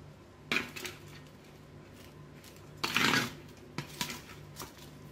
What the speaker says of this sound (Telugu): ఇప్పుడు దీంట్లో దీన్ని యాడ్ చేసేసుకొని ఒకసారి బాగా మిక్స్ చేసేసుకుందాం